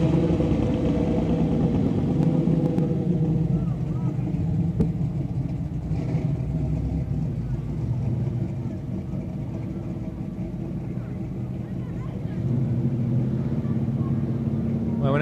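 Parade cars roll past at the Spirit of Shrewsbury Parade with a steady, continuous low engine rumble that swells and eases slightly, mixed with crowd noise and faint talk.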